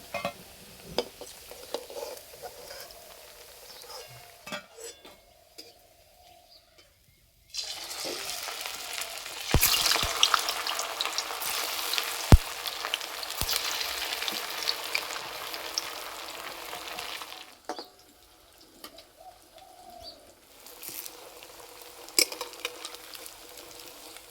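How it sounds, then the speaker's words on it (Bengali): Oil sizzles and crackles as potato and semolina snacks deep fry over medium heat, a steady hiss that swells louder midway, with occasional clinks of a utensil. "মাঝারি আঁচে ভেজে নিতে হবে।"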